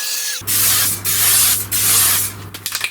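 Three long hissing bursts of an aerosol spray can, close and loud, separated by brief pauses, with a low steady hum underneath.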